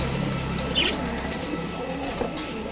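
Pet pigeons in a loft, including a Jhamar breed, coo softly under low background noise, with a brief flutter near the start and faint soft calls continuing throughout.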